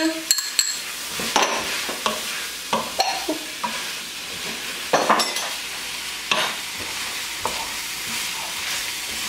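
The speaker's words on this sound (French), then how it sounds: "il faut vraiment gratter le fond pour pas que ça colle" Garlic and ginger sizzle in a hot pan while a utensil stirs and scrapes the bottom, with irregular clacks and scrapes over a steady frying hiss, close up and without talk.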